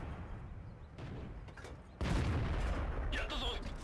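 Tank cannon in the World of Tanks video game fires with a sudden loud boom partway through, followed by rumbling reverberation and some higher clanking, after quieter rumbling and faint thumps.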